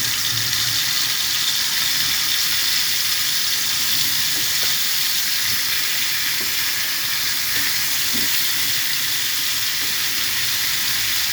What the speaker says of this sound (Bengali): এখন মাছটা তেলে করে ভেজে নেব, হালকা করে তেলের ভিতরে দিয়ে দিলাম।